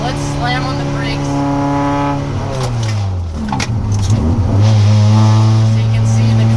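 Toyota MR2 on new coilovers braking hard on a road: steady engine drone drops sharply in pitch as the car slows, with a burst of noise mid-way, then settles into idle-like hum; speech heard.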